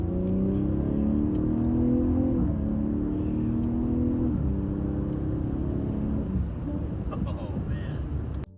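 A 2024 BMW M340i accelerates on an open road out of the city, its engine rumble rising through several gear changes as a continuous, loud whir fills the cabin.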